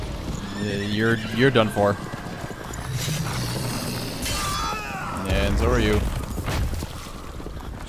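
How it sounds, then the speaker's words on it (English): Horses in The Witcher III video game neigh and whinny loudly over galloping hoofbeats, with someone speaking between the calls. "those horses are big and they're fast."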